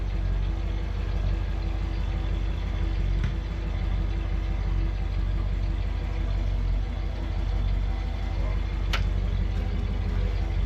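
A 1974 Ford Ranchero with a 351 Cleveland V8 idles steadily, a deep, even rumble running throughout with an occasional faint click, while voices speak nearby.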